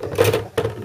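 The metal latch of an LGA1150 CPU socket on an MSI Z87-G45 Gaming motherboard is opened, giving two short, close metallic clicks and scrapes less than a second apart.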